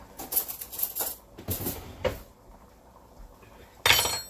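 A butter knife and spoon handled in a home kitchen: a run of close metallic clinks and clatters against dishes, a pause, then a final louder clatter.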